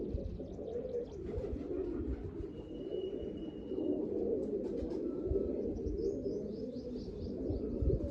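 Pigeons cooing continuously at a rooftop loft, with soft chirps over a dense low rumble of ambient noise, moderately close and without talk.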